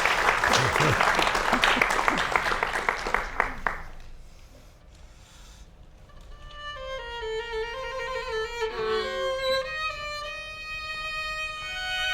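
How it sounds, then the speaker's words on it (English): A small class claps briefly during a Bach Violin Sonata No. 1 interpretation session, a few seconds of close, busy clapping that stops abruptly, followed by solo violin playing. "a little applause"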